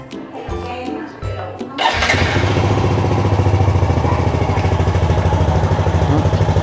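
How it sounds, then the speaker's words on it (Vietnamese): A Yamaha Jupiter motorcycle engine starts after a cranking sound, then settles into a steady, loud idle close by. "Ok, thì bây giờ mình nổ máy luôn thử làm sao."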